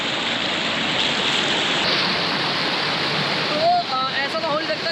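Rushing rainwater pours down a waterfall at Naran Kaghan, a loud, dense, continuous roar close by, with faint chirps or a high voice rising near the end.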